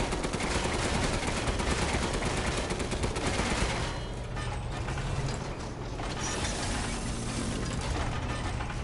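Rapid automatic gunfire crackles in a video game as enemies are shot down, a dense, continuous mechanical rattle that stays loud and close, briefly easing midway, with no speech.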